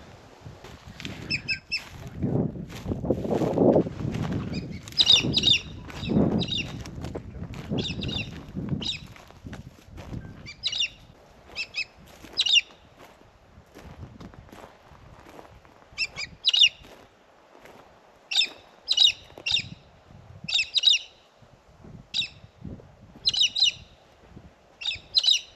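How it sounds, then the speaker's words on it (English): Galahs give repeated sharp, high chirps and squawks at sunset in rural Australia near the Murray River, some calls close and some farther off. Soft low rumbling sits under the calls early on, and the chirps come in irregular bursts. "The galahs are chirping."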